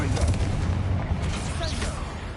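Spell blasts from Confringo and Bombarda in Hogwarts Legacy, a continuous barrage of heavy booms and bursts layered over a rumbling low end, loud and dense with no pauses.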